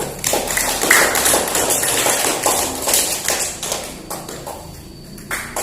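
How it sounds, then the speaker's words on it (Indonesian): Students in a classroom give a lively round of applause, a dense patter of close hand claps that thins out and fades toward the end. "Maka kita berikan tepuk tangan yang meriah kepada Mbak Dea."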